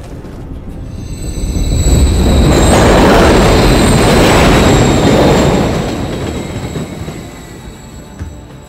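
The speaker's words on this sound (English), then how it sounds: "Another train coming." A train rushes past in the Call of Duty Modern Warfare 3 Battle of London level, with a rumbling swell that builds over about two seconds, holds loud with steady rail noise and high wheel squeal, then fades away.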